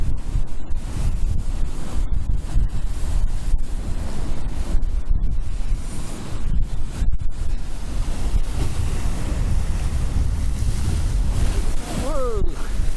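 High-tide sea waves surge and wash up a beach on the coast near Hunstanton, heard as a continuous roar with gusts of wind buffeting the microphone. No one speaks.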